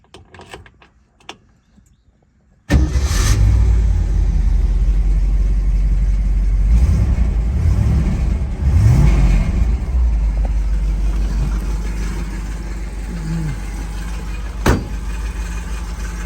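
A 1967 Ford Mustang's 390 V8 starts abruptly and settles into a steady, fairly quiet idle through a factory-style exhaust, with a few mild revs swelling midway and a brief sharp click near the end.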